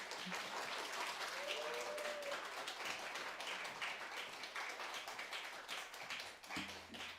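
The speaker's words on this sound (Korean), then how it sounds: "우리 박수로 한번 환영하도록 하겠습니다" A church congregation applauds steadily to welcome its senior pastor, a continuous wash of clapping from many hands, fairly faint, with a brief vocal tone partway through and a low rumble near the end.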